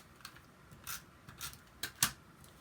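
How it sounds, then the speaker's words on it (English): Long-blade scissors chopping through a photograph for a scrapbook page, several crisp close snips at irregular intervals, quiet and without talk. "you're using the long blade scissors, so it's usually just a chop"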